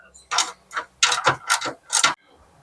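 Impact wrench tightening a fitting on a pump, giving several loud, separate rattling bursts, each about a quarter to half a second long, with short pauses between them.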